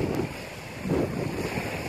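Steady sea wind buffeting the microphone over waves lapping around a small boat at sea, a continuous close rushing roar with soft swells, no talking.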